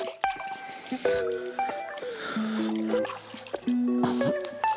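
A person wades into river water, making a run of close, soft splashes, drips and squishy gurgles, with quiet tonal sounds over them and no clear speech.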